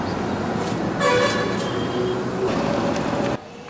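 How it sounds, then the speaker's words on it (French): Noisy street in Kathmandu, with loud car horns honking in short overlapping toots over a constant roar of traffic and engines, close by and busy. "Plongeons dans la vie bruyante de Katmandou."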